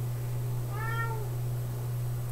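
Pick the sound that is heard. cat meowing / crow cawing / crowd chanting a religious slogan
cat meowing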